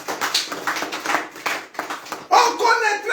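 A church congregation applauds in a sustained burst of dense clapping lasting about three seconds, swelling louder near the end, with a few voices mixed in.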